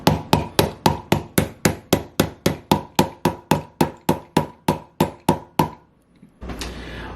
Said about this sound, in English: we're going to hammer this in the rest of the way